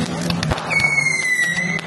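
Fireworks and firecrackers burst at a New Year 2025 street celebration, with several sharp pops and bangs and one rising whistle, fairly loud and close over crowd noise and voices.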